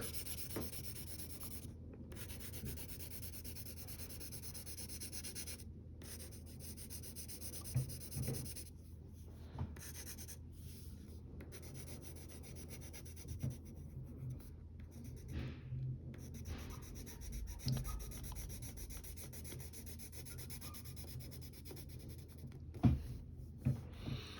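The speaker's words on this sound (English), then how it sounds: "If you want to use a marker or a crayon to color her hair, that's fine." A marker or crayon colouring in the black hair of a drawn cartoon girl, soft continuous scratchy strokes close up, quiet and steady with short pauses between passes and an occasional louder tap.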